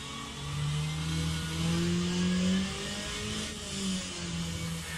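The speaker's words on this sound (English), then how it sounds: "That goes one of the LMP2s. They sound so good. High revving V8s." A high-revving V8 engine of an LMP2 race car in the rFactor 2 racing game, on a wet track in the rain, droning steadily with rising and falling pitch as it passes at moderate distance, heard alone with no talk.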